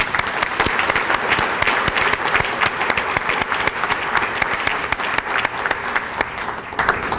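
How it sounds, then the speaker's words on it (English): Audience at a police awards ceremony gives a big round of applause, dense, sustained clapping with sharp individual claps standing out, loud and steady throughout. "let's give him a big round of applause"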